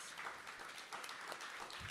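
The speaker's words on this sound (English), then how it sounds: "let's give him a round of applause." An audience gives a round of applause at an artist salon event, a steady wash of clapping, faint and distant, without speech.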